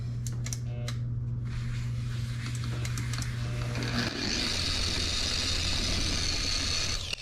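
A VEVOR 6-inch random orbital buffer polisher with a new pad running on automotive paint, a steady close motor drone with a pitch shift partway through as it comes under load, preceded by faint clicks.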